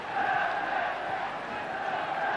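A football stadium crowd during Manchester United against Fenerbahçe gives off a steady, distant roar of voices, holding at an even level without sharp peaks.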